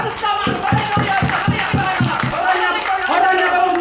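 A church congregation claps together in a brief burst of rhythmic applause during a sermon, with the preacher's voice carrying over and continuing after the clapping fades.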